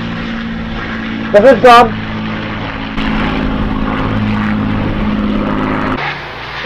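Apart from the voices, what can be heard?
propeller airplane flying overhead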